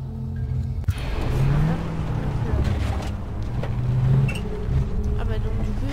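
A small car with a mounted gun drives in Far Cry 3, a steady low engine rumble with a sharp thump and rising revs, heard under talking.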